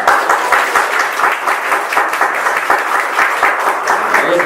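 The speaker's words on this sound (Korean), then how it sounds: "우리 윤현주일학교와 우리 성가대를 위해서 한번 박수 한번 보냅시다." A church congregation at a Christmas service claps together, the applause steady and fairly close, with individual claps standing out in an uneven rhythm.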